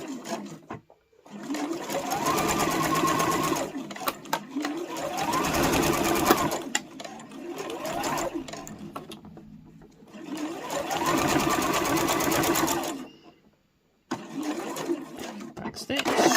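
A domestic sewing machine stitches the side seam of a small fabric boxed pouch in long, steady whirring runs, with brief pauses between bursts.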